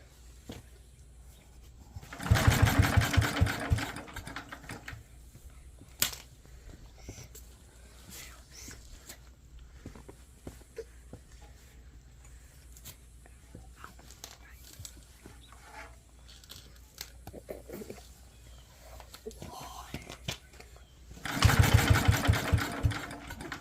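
Someone tries to start a Locke reel mower engine after its carburetor bowl was drained and refilled with fresh gas: two loud bursts of cranking near the start and end of the clip, with quiet handling noises between them.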